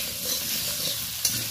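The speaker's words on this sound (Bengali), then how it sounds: "একটু নাড়াচাড়া করে নিচ্ছি" Potatoes are stirred in a pan of hot oil, a steady hiss of sizzling with a soft scrape of the spatula near the end, close and without voices.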